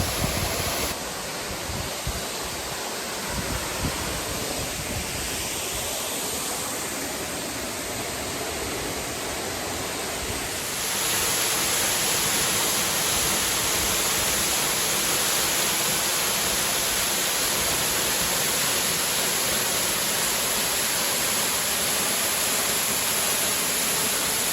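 Henrhyd Falls waterfall in Wales, a dense, continuous roar of falling water heard up close, growing louder and fuller partway through as the approach moves behind the falling water.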